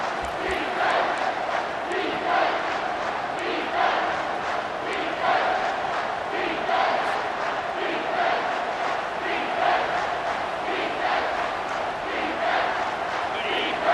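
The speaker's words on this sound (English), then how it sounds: "the crowd coming to life here, trying to help this defense down in the red zone" Stadium crowd in EA Sports College Football 25 roaring and chanting in a steady rhythm, loud and continuous throughout, with a commentator's voice over it.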